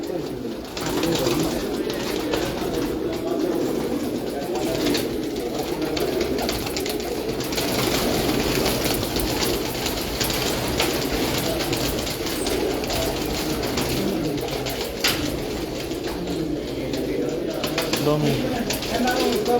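Rooftop domestic pigeons coo and stir as they are let out of a loft, a dense continuous murmur of many birds with a voice speaking over it.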